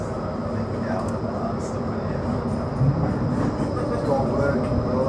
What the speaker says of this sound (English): we are living the dream here on the tram from Fleetwood all the way to Starr Gate in Blackpool